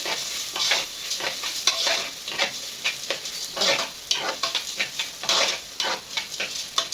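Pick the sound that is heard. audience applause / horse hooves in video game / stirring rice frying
stirring rice frying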